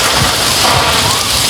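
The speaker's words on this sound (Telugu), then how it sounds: "అయ్యో రేకుల సౌండ్ కూడా ఘోరంగా వస్తాను" Heavy rain driven by strong wind drums on a tin sheet roof during a storm in Hyderabad, a loud, dense, continuous roar with no talking.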